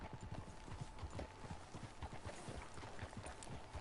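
Horse hooves clip-clop at a steady walking rhythm in Red Dead Redemption 2, a quiet, even series of soft thuds and clops with faint background ambience and no voices.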